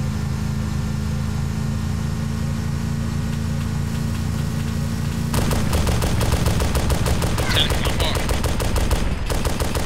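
Arma 2 multiplayer firefight: an engine hums steadily, then rapid bursts of automatic gunfire rattle loudly and continuously for several seconds.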